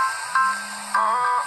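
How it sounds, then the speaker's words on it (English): A phone ringtone plays alone and fairly loud: a steady low tone carries under two short bursts of brighter melodic notes that repeat about half a second apart. "This is my ringtone."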